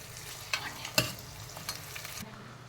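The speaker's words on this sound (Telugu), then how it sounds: "క్యారెట్ పీసు వేసి వేయించాలి." Carrot pieces fried with masala in a pan, giving a quiet steady sizzle broken by a few sharp scrapes and taps of a stirring spoon, close with no talk.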